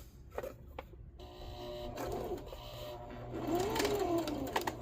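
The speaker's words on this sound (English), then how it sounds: "Do some back stitch to lock the stitch in." A sewing machine stitches a fabric cover in steady, fairly quiet runs of rapid mechanical clatter that build toward the end, with no talking.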